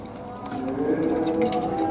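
Racing pigeons cooing, soft low throaty coos repeating close by over a faint background, with a voice briefly present.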